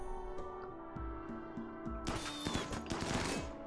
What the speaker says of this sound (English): Alright, so they started shooting.